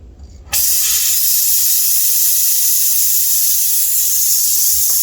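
A steady, loud gas torch flame melting 24k gold hisses continuously after a brief quiet start, broadband and unbroken to the end.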